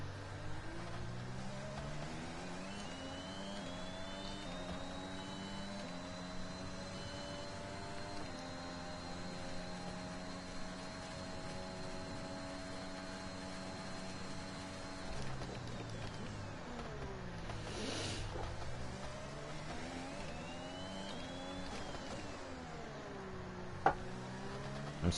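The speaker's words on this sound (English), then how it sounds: "I'm surprised my engine is still holding up." A Formula 1 race car engine in a racing game at the Circuit of the Americas, heard from onboard as a steady, whining roar. Its pitch rises and falls through the gear changes and it stays moderately loud throughout.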